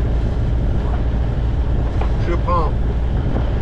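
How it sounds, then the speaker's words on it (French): Steady wind rushes over the microphone aboard a sailboat heading into the wind on a trip between Port Leucate and Collioure, with low roaring noise throughout while someone speaks briefly. "Là, on est face au vent."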